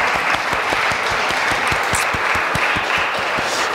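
Church congregation clapping together during a Sunday service, a steady dense applause of many hands that fills the whole stretch at an even level.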